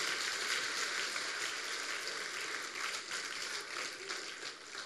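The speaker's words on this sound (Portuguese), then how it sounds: "Você pode aplaudir ao Senhor com alegria?" Steady, dense clapping from a large church congregation, a continuous wash of hand claps that holds evenly for several seconds without pause.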